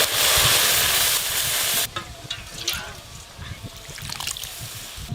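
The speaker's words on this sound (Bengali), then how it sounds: "এবার ডালটা ছকে দেব।" Chalta dal hits hot mustard oil tempered with mustard seeds, dried chilli and bay leaf in a kadai, letting out a loud burst of sizzling that falls to a softer bubbling with stirring clinks.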